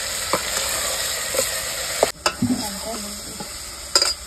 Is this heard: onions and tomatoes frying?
yes